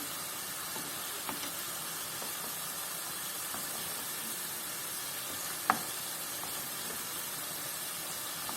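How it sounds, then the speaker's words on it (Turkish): Sucuk slices sizzle steadily in a dry, oil-free pan as their own fat begins to render, a continuous close hiss with a few faint clicks and one brief sharper pop. "sucuklarımı yağsız bir tavaya almıştım. Gördüğünüz gibi şöyle hafiften yağ da çıkmaya başladı"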